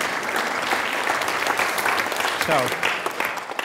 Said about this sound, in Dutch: En nu mag je klappen.